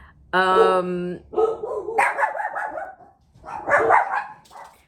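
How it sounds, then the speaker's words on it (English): Household dogs bark loudly and close by in several bursts, with sharp yips and rougher woofs and brief pauses between them. "I was waiting for my dogs to stop barking"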